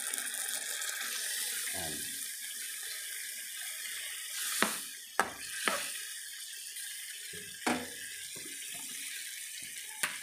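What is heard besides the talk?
water being poured into cooking pot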